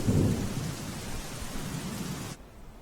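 Heavy monsoon downpour over flooded streets in Ahmedabad, a steady roar of rain with a low rumble of thunder at the start, running close and loud for a couple of seconds before cutting off abruptly.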